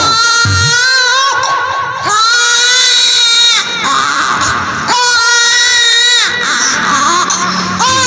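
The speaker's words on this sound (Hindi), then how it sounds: "बच्चे की रोने की आवाज आ रही है" A baby cries loudly and continuously in long wailing bursts with brief breaths between, close and alone.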